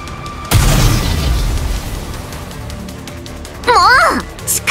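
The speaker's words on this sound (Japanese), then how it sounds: "榴弾か。 お手製かしら。 爆発が不安定だわ。" A homemade grenade in the Goddess of Victory: Nikke video game goes off with a single sudden loud boom, then a rumbling tail that fades. A brief voice cries out a few seconds later.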